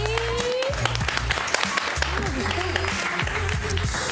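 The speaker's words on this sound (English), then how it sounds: "Let's get a round of applause for Nico, Hallie, and Audrey." An audience at a Saturday night game-show event claps in a round of applause, moderately dense clapping mixed with cheering and vocal noise from the crowd.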